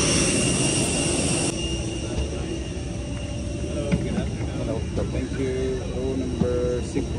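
Air Arabia airliner at an airport, a steady jet engine roar running through the clip under nearby talk and announcements.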